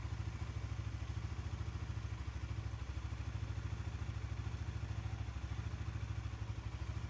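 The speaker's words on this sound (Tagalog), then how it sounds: "Tignan na po natin kung okay na yung idle speed o minor ng ating motor." Suzuki Raider 150 FI motorcycle engine idling at standard speed, a steady, close, rapid low putter with even ticking pulses, unchanged throughout and without voices.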